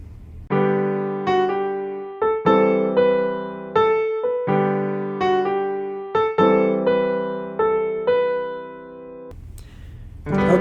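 A piano plays the right-hand melody of a song as a gentle line of single notes and repeated phrases that ring and decay, close and clear with no voices.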